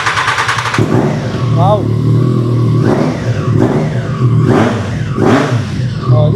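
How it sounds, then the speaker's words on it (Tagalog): A Triumph Tiger motorcycle with an Akrapovic exhaust idles, then revs three times in rising, swooping bursts, loud and close, while a voice exclaims briefly over the engine. "Ngayon, pakinggan natin yung Acra exhaust niya."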